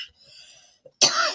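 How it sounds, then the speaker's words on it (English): A person recovering from a bad cough lets out one harsh, raspy cough near the end, after a short stretch of faint breathy sounds. "I'm really just getting over this bad cough."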